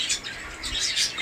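Pet parakeets (tia) squawk and chirp in a busy, continuous chorus of harsh, overlapping calls at close range with no talking.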